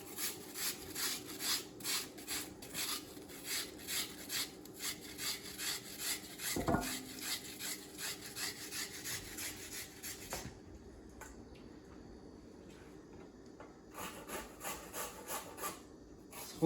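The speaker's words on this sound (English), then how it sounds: "you want to take either a box grater or a cheese grater" A white radish is grated on a box grater held at an angle, making steady rhythmic rasping strokes, close and fairly loud, that pause briefly before resuming.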